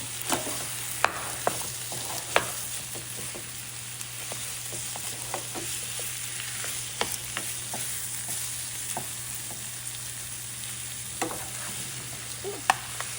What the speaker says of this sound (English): I'm going to chop up that meat.